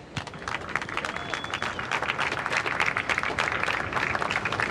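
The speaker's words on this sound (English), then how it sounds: "Big round of applause for our sponsors, please." Applause and clapping from a crowd at a surf contest, thanks for the sponsors on finals day at Caparica, a dense continuous wash of many hands sustained throughout at moderate level.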